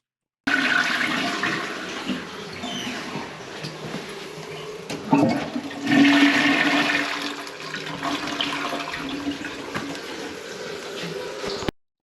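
Toilets flush in succession for several seconds with steady rushing, gurgling water that swells again midway, flushed through to clear a blocked drain line before surveying; no talk.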